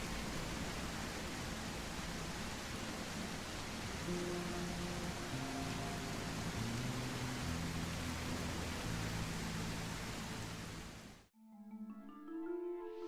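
Steady, dense rain pours in the video game Surroundead, a loud broadband wash lasting about eleven seconds before cutting off abruptly into quieter game ambience.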